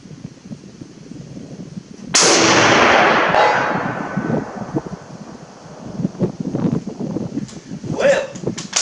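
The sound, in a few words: Springfield M1903A1 rifle with Unertl scope firing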